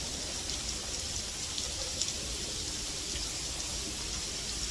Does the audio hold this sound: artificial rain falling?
yes